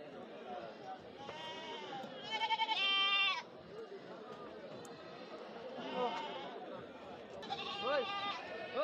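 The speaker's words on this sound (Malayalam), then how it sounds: "ഈ വണ്ടിയിൽ ഒരുപാട് ആടുകളുണ്ട്." Goats bleating inside a vehicle at a goat market in Kerala, several overlapping calls in bursts, near and loud over steady market chatter and background talk.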